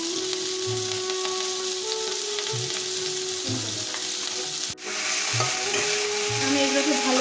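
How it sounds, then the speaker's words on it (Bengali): Cabbage fries in a little oil with cumin seeds and dried chillies, a steady close sizzle running throughout, broken by periodic scraping stirs and one sharp clatter midway. "আমি এগুলোকে ভালো করে ভেজে নেব।"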